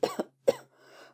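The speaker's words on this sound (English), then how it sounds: "How long have you had that cough?" Two sharp coughs close together, then a second hacking cough followed by a wheezy, breathy rasp; close and fairly loud, no talking.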